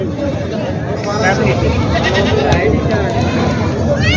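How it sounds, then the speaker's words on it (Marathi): Several Osmanabadi goats bleat close by at a goat market, their calls overlapping against a busy crowd of voices talking. "खूप चांगल्या शेळी आलेले आहेत मित्रांनो पूर्णच्या शेळी बाजारामध्ये"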